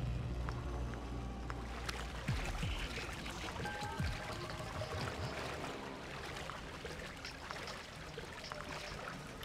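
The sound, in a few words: character moving through water in Splinter Cell: Pandora Tomorrow video game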